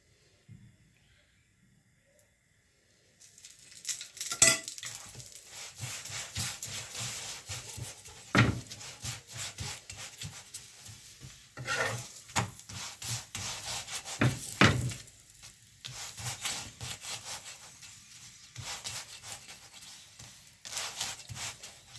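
Paratha flatbread frying in oil in a pan gives a soft, steady sizzle with intermittent scraping and rubbing as it is pressed and turned. The sound begins after a few seconds of near silence.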